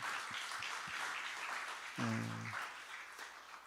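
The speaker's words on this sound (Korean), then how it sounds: "우리 순장님들한테 한 박수로 축복하죠" A church congregation applauds its small-group leaders during a sermon, fairly faint and diffuse clapping throughout, with a brief low tonal sound briefly rising in the middle.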